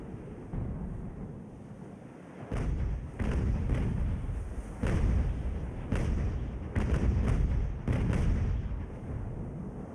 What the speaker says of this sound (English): Would you like to fire at that enemy ship,